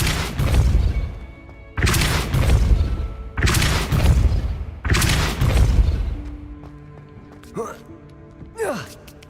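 Depulso spell blasts in Hogwarts Legacy, four heavy booming bursts in an even rhythm, each with a rumbling tail, followed by quieter effects and short vocal sounds.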